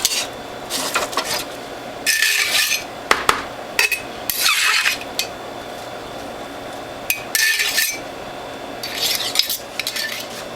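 Cleaning the feed tube of a WHF premium juicer, with bursts of scraping, rubbing and clinking metal-on-plastic sounds separated by short pauses, close and moderately loud, with no talking.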